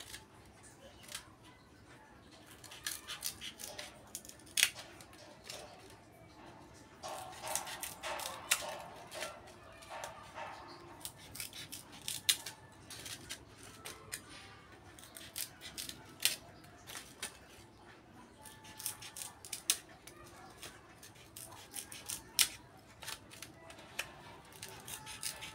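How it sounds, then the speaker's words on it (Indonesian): Scissors cut styrofoam into lotus petal shapes, making repeated crisp snips and squeaky crunches at an irregular pace, close by, for about half a minute. "dari tengah ini kita gunting miring membentuk kelopak ya"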